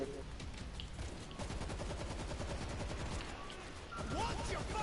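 Rapid repeated gunfire in a PS4 zombie shooter, a fast steady rattle of shots running throughout at moderate level, with a louder stretch near the end.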